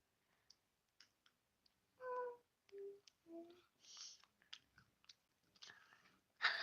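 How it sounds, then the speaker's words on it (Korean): Chocolate being eaten in a quiet room: sparse close-up bites, crunches and mouth clicks with pauses between, no talking. "저도 한번 먹어볼게요"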